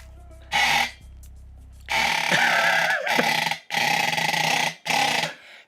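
A weird quacking duck-like sound effect used for a game mount, repeated in several loud honking bursts with short gaps between them.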